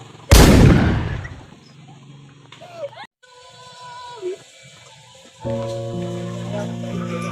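One sharp, loud gunshot blast with a long decaying echo, followed by quieter tonal sound effects and a swelling musical tone.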